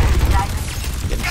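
Overwatch 2 competitive match gunfire, a dense burst of shots and impacts with heavy low-end booms throughout, dense and continuous over a short stretch, with voices present in the mix.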